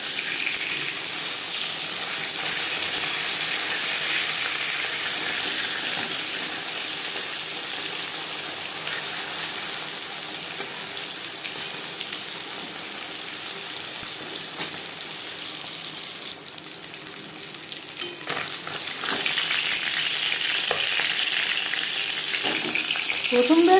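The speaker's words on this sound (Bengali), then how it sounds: "দেখুন মাছ ভাজা হয়ে গেছে" Bata fish frying in refined oil after being turned over, a dense, steady sizzle and spatter close by, swelling louder near the end, without speech.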